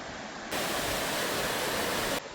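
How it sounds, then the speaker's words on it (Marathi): Kondeshwar waterfall, a dense steady roar of falling water that cuts in abruptly for about two seconds, with quieter ambience before and after. "आम्ही कोंडेश्वरला पोहोचलेलो आहोत आणि आमचा पहिला धबधबा"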